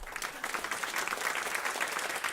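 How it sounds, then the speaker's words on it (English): An audience applauds panelists at a climate action event on food waste, giving a steady, dense round of clapping that holds at an even level throughout without a break. "Another big round of applause for them."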